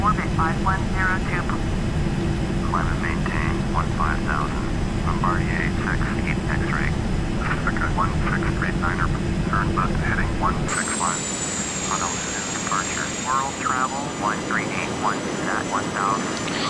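A DC-3 engine drones steadily in a flight simulator game, a loud continuous low propeller hum with radio voices chattering over it and an abrupt change in tone partway through.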